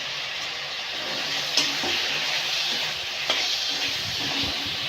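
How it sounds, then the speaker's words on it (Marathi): Large potato pieces sauté in spicy masala for a village-style potato rassa, a steady close sizzle with a couple of sharp stirring clinks from a spoon against the pan. "आता ह्या फोडी आपल्याला छान मसाल्यामध्ये परतून घ्यायच्या आहे"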